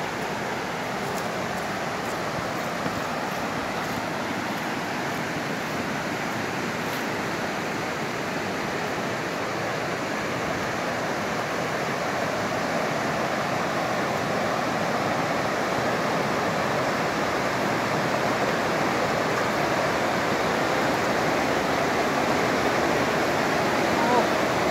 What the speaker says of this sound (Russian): Покажу, как я окунусь в воде в речке, в холодной горной.